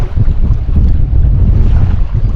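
Loud, blustery wind buffets the microphone in a constant low roar on a riverbank while fishing, with no other sounds standing out.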